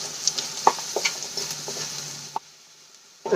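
Vegetables sauté in a pan while they are made into a snack with Maggi noodles, a soft sizzle carrying scattered stirring clicks before the sound drops away, then one more scrape at the end.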